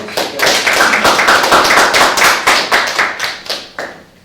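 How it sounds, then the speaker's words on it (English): Audience applause at a real estate property management talk, dense and steady clapping from many hands for several seconds, tapering slightly toward the end. "let's give him a round of applause."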